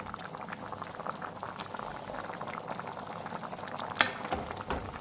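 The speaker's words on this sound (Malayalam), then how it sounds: "കറി തിളച്ച് വരുന്ന സമയത്ത്" Ivy gourd fish curry bubbles and simmers steadily in a pot, with a brief metallic clink near the end.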